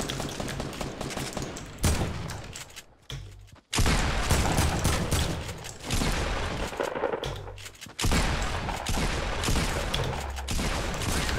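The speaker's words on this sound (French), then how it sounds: "on me tire dessus là" Gunfire in Fortnite: dense, loud volleys of shots in several long stretches, broken by short quiet gaps, with no clear voices over the shooting.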